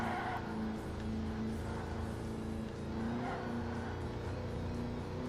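A race car in Ford Racing 3 rounds a hairpin, its engine droning steadily with a sustained tone that dips and rises through the corner, loud and close without any talk.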